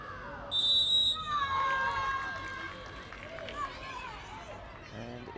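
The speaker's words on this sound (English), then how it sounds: "The referee's got the whistle in her mouth" A referee's whistle at a women's football match in the CAF Women's Champions League gives a sharp, piercing blast about half a second long, followed by crowd noise and a commentator talking.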